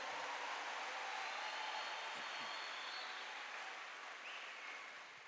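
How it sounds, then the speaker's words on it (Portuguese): Applause from a church congregation during a Catholic talk on the Eucharist, a dense, steady wash of clapping throughout that fades slightly toward the end, with no speech over it. "Pode aplaudir, é a igreja."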